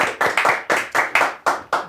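Hands clap on a talk show, about eight sharp, evenly spaced claps in quick rhythm, close and fairly loud, with nothing else around them.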